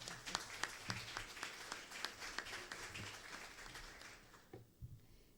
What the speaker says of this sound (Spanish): Le damos un fuerte aplauso al maestro.